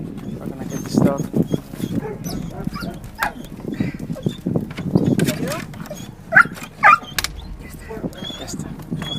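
A rescue dog with severe facial injuries yips and whimpers in short bursts, with a couple of sharper cries near the end, while people talk throughout.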